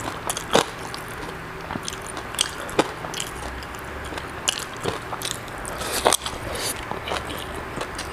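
Loud, close chewing with sharp crunches and crackles scattered through steady munching of crispy fried pork.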